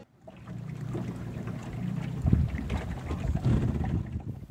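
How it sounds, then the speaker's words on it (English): A rescue boat is manoeuvred on open water during a superyacht training exercise, a low motor rumble and splashing water heard close by with wind buffeting the microphone. "Once the rescue boat had been launched, it was manoeuvred away and the crane hook reset in preparation for recovery."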